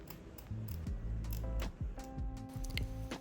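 Scissors snip through the lace edge of a wig, giving a run of short, crisp clicking cuts close by in a quiet room, with a low hum and tonal background sound underneath.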